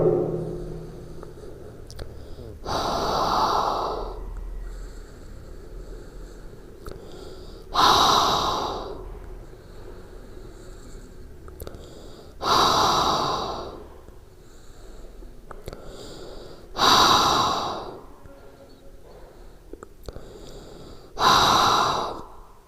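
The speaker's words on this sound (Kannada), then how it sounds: "ಮೂಗಿನ ಮುಖೇನ ಉಸಿರು ತೆಗೆದುಕೊಳ್ಳೋದು, ಬಾಯಿ ಮುಖಾಂತರ ಉಸಿರು ಹೊರಹಾಕೋದು." A breathing exercise, inhaling through the nose and exhaling through the mouth: five loud, forceful exhales through the mouth arrive at roughly four-second intervals, each followed by quieter nasal inhales, close and without talk.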